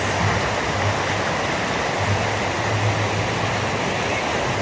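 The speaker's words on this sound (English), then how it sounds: "they have this waterfall area" A waterfall area at Volcano Bay water park: a constant, dense rush of falling water fills the scene evenly, with a faint low hum beneath and no clear voices.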